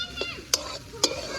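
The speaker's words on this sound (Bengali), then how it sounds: "আলুটা হালকা ভাজা হয়ে গেছে" Potatoes fry and get stirred in an old, blackened iron wok, with a low sizzle running underneath and two sharp scraping clanks of a utensil against the metal, close up.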